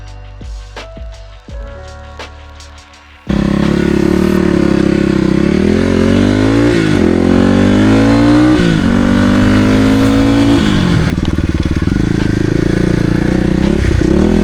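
A Kawasaki KLX300R dirt bike engine fires up after a few faint clicks and knocks, then revs loudly and steadily up close, with several rising and falling throttle blips.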